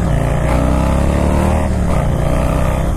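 A Harley-Davidson motorcycle with a Twin Cam 110 engine accelerates hard on the road, a loud, close, continuous rumbling engine note that rises steadily in pitch through the gears with heavy low-end throb.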